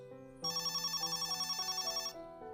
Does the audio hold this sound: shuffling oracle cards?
no